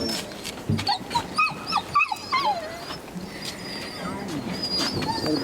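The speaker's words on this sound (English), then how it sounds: "Bunch of dogs." A pack of hunting dogs yelping and baying in a burst of overlapping cries, then fading into more distant calls and outdoor noise.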